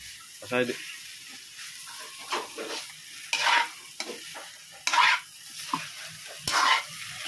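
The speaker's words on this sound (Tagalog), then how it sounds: "haluin natin guys yung niluluto natin ng hipon" Shrimp cooking in a pan with coconut and red chili get stirred in repeated scraping strokes over a soft sizzle, close and fairly quiet, with a voice speaking intermittently.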